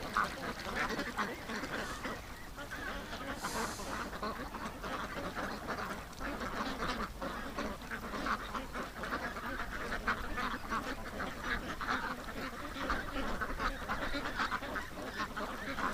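Muscovy ducks and other waterfowl on the water, a continuous chorus of quacking and honking calls at moderate distance, overlapping throughout with no talk.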